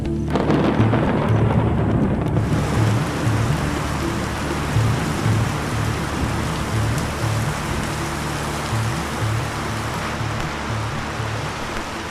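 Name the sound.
thunderstorm with heavy monsoon rain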